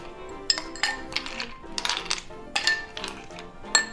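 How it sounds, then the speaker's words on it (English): Ice cubes dropped into a cocktail glass for a blueberry rum drink, several close, bright clinks and rattles in quick, uneven bursts. "Add some ice."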